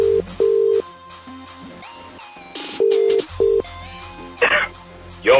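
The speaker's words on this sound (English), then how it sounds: "I can hear a ringing, that's a good sign." Phone call ringing, with repeated electronic ring tones in short bursts separated by pauses and line noise, fairly loud and alone, followed by a brief burst of static near the end.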